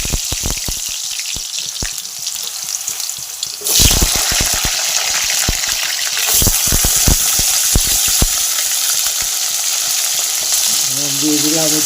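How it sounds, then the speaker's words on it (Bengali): Cut potatoes frying in hot oil, a loud bright sizzle that jumps up sharply a few seconds in and then holds steady, with frequent clicks and knocks of utensils close by. "এখন আলুটাকে ভেজে নিই।"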